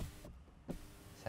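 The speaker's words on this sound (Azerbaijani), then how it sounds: "Məncə biraz pəncərəni açardım." Power window on a BMW M5 F90 sedan, a faint, brief electric whir of the glass lowering, heard alone in a quiet cabin with soft thumps before and after.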